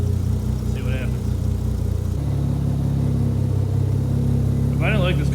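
A Mazda RX7 rotary engine warming up, a steady close idle hum that shifts to a slightly different tone partway through, while a voice speaks briefly twice over it.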